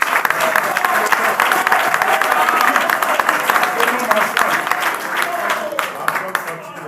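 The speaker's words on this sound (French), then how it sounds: "Félix Antoine Tshisekedi Tshilombo, que je vous demande d'applaudir" A large crowd at a political rally applauds loudly and continuously, a dense clatter of clapping mixed with crowd voices and a speaker talking over it.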